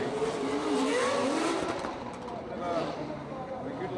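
BMW drift car with an M50 engine revving at a professional drift competition, a loud sustained engine roar with shifting pitch and tire noise, heard under a commentator's voice.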